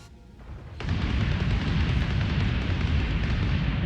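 A damaged ship blown apart in the space game Starbase: a quiet lead-in, then a sudden heavy boom at under a second that swells into a sustained rumbling roar of explosion filling the rest.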